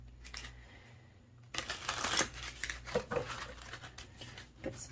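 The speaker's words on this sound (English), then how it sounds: "Get some good shuffles in here." Tarot cards shuffled by hand, quiet at first, then a louder run of riffling and flicking bursts in an uneven rhythm, close and without talk.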